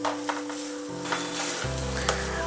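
Ground masala paste frying in a pan for Hyderabadi paneer curry, a loud continuous sizzle with occasional scraping from stirring and a low background hum.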